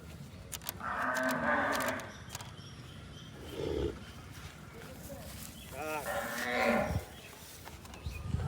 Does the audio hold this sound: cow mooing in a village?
yes